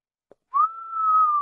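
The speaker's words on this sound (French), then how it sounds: "J'espère que le micro a coupé le sifflement" A person whistles one clear, sustained note lasting about a second, close and fairly loud, after a small click in near silence.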